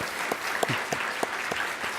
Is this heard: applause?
yes